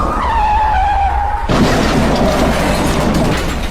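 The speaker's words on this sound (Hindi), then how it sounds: "जिसके कारण गुल्ली के गाड़ी का एक्सीडेंट हो जाता है।" A cartoon car's tires skid with a rising screech, then the car crashes in a loud, sudden impact that leaves a noisy, crunching wash of debris trailing off afterward.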